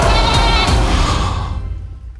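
A goat bleats loudly and close in a long, quavering cry that fades away at the end.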